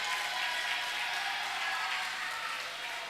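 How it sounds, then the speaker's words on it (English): An audience at a church dance event in Nashik applauds the participants with steady, dense clapping that fills the whole stretch evenly, without talk over it. "give a huge round of applause for all the participants"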